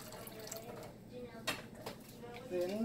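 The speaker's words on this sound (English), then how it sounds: "I'm gonna add about 1 cup of water." Water poured into a pot of coconut rice with coconut milk gives a soft, close trickling and splashing under a speaking voice, with a few brief louder gushes.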